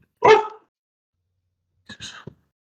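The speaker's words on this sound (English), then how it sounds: "Dogs." Dogs barking nearby: one sharp bark, then a pause of more than a second, then a shorter, softer pair of barks, with silence around them.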